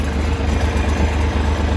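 A new Kentavr 244M tractor engine idles at a steady low rumble, close and even, with no one talking over it.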